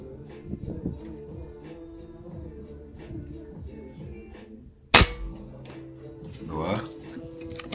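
A single sharp, loud rifle shot at a 10-metre shooting range, cracking out near the middle of the clip, with quiet voices and handling noise before and after.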